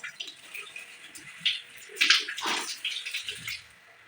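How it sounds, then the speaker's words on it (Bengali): Whole spices and bay leaves are rinsed under water, with intermittent splashing and trickling bursts, a louder gush midway, and quieter drips toward the end. "প্রত্যেকটি মশলা, আস্তা মশলা, তেজপাতাগুলো আমি এভাবে ধুয়ে দিই।"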